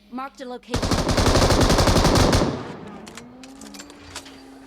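Sustained automatic gunfire in PUBG Mobile, a loud rapid burst lasting about two seconds after a brief voice, then fading into quieter game ambience with a low engine-like hum.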